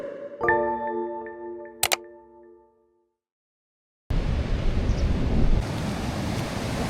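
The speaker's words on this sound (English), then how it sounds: "sea is so choppy and rough" After a few tonal sounds, a sharp click and a brief silence, a steady broadband roar of rough, choppy sea and wind at Samsun fills the rest.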